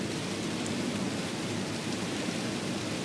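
Heavy rain falls at Hazm Al-Jalamid, a dense, even hiss of steady downpour that continues without break.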